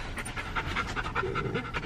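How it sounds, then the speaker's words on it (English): A dog pants heavily and steadily at a veterinary clinic, with rapid, rhythmic breaths that stay close and fairly loud throughout, with no talking. "sorry that she's breathing so hard."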